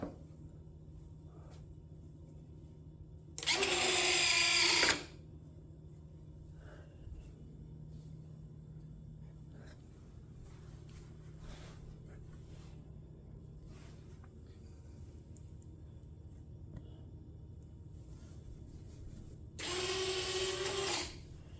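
Retractable landing gear on an E-flite P-51D RC plane cycles with two short, sharp electric whirring bursts separated by a long quiet gap, each burst lasting about a second over faint background hum.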